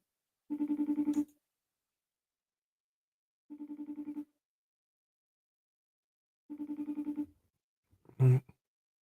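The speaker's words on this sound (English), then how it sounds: "See if my daughter answer her phone." A phone rings out on an unanswered outgoing call: three evenly spaced electronic ring tones, each followed by a pause, then a single dull thump at the end.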